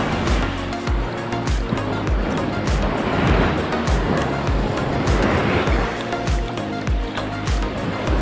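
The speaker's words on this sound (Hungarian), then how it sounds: "Nagyon jó ez a hullámzás." Sea waves roll in and break steadily on Ammos Beach in Greece on a windless day, a continuous loud surging wash with repeated crashes and foamy hiss close by.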